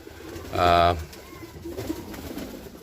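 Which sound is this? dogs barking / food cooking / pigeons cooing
pigeons cooing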